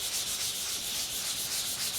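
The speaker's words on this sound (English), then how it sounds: "next I'm going to wet sand it with some 400 grit sandpaper." Steady, rhythmic rubbing of 400-grit wet sandpaper against a car bumper, a continuous hissy scraping with regular back-and-forth strokes and no voices.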